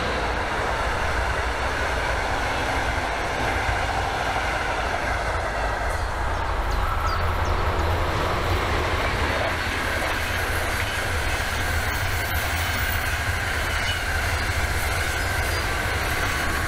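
Two trains pass at once, one overtaking the other, giving a loud, continuous rolling rumble of wheels on track with faint rail clatter throughout and no voices.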